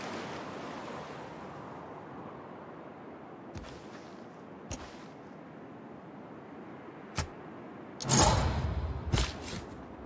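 In Civilization VI, ocean waves wash in a steady, soft surf as a unit moves into the water, broken by a few sharp clicks and a brief louder burst near the end.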